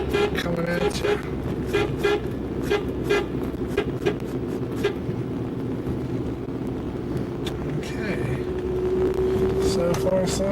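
A car horn beeps several times in short bursts over road noise as a vehicle drives down a neighborhood hill, with a person talking nearby.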